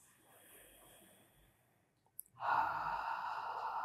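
Deep breath during a guided stretching exercise, a quiet hush that swells suddenly into a loud, sustained exhalation close to the mic after a near-silent pause.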